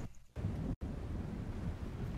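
Thunderstorm in the Fortnite video game: a steady, loud rumble of rain and thunder fills the scene, with a brief quieter start and a momentary drop in sound partway through.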